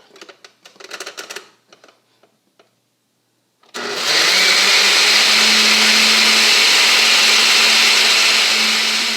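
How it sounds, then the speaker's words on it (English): A blender whirs loudly and steadily, mixing a pomegranate juice cocktail for Christmas dinner, starting abruptly after a few soft kitchen clatters and running on without letup. "And we'll just blend that right up."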